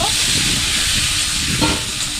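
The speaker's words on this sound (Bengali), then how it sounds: "তারপরে আমি এই আলুগুলো একটু ভেজে নেব" Potatoes frying in hot oil in a pan while a fish curry is cooked, a steady loud hiss and sizzle held evenly throughout with no voices.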